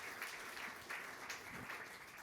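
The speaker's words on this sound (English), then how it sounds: "more applause please" A faint, distant audience applauds to welcome a speaker to the stage at a Climate Week NYC event, with soft, steady clapping heard from afar.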